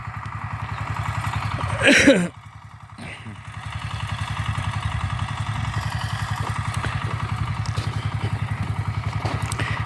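A walk-behind tractor engine chugs steadily nearby while hilling potatoes in a garden plot, a loud rhythmic putter that briefly drops after a short clatter, then runs on evenly.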